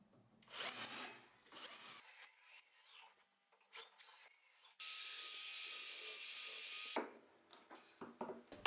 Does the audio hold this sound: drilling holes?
yes